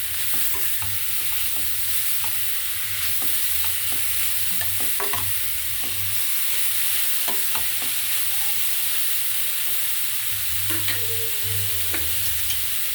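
Grated beetroot and carrot sauté in a pan with a steady sizzle, punctuated by scattered scraping clicks of a spatula stirring close by.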